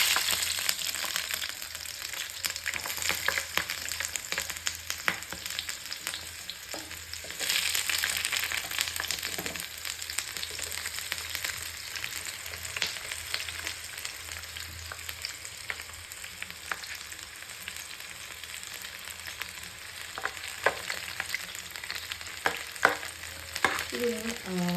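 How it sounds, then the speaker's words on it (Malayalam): Onions frying in hot oil for onion rice, a steady close sizzle with intermittent scraping as a spoon stirs the pan, continuing without talk. "നമുക്ക് എണ്ണ ചൂടായി ഈ സോള ഇതിനകത്തേക്ക് ഇട്ട് കൊടുക്കാം."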